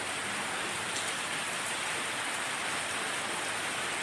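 Heavy monsoon rain pours down in Kerala, a dense, constant hiss of downpour with no let-up and no voices.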